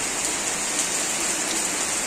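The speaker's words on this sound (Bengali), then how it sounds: "এই যে দেখেন বৃষ্টি শুরু হয়ে গেছে" Rain pours down steadily in a village, a dense even hiss of falling drops striking surfaces nearby, with no voices or breaks.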